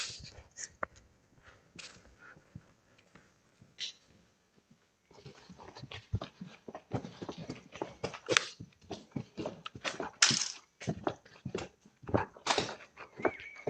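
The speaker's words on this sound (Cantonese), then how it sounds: "你都係入嚟睇一睇個3隻狗，放低啲糧" Three dogs in an abandoned Hong Kong ruin give short whimpers and yips, then a burst of sharper barks and whines that grows busier and louder in the second half, close by with no talk.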